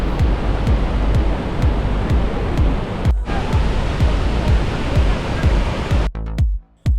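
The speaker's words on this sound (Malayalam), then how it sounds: "ഇത് അതിരപ്പള്ളി വെള്ളച്ചാട്ടത്തിൻ്റെ മുകളിൽ നിന്നുള്ള വ്യൂ ആണ്." Athirappilly waterfall in Kerala, heard from the top of the falls as a loud, dense, continuous roar of rushing water, broken by a couple of brief dropouts.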